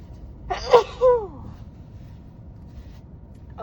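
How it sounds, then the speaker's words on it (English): A single sharp sneeze from a person, close and loud, followed by a short voiced exhale, then quiet room noise. "Everything makes me sneeze."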